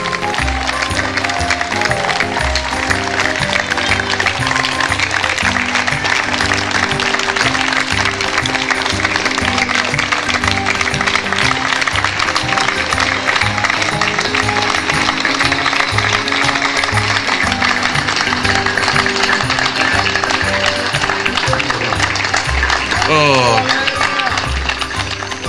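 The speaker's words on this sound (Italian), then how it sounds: "Possiamo accogliere con un applauso Elena Bagolini." Spectators at a regional Special Olympics event welcome Elena Bagolini at the torch lighting with long, steady applause that stays loud and dense throughout, with crowd murmur mixed in.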